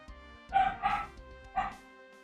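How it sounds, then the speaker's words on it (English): A dog indoors gives three quick barks, two close together and a third after a short pause, fairly near and moderate in loudness. "There's my dog barking."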